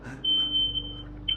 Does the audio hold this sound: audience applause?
no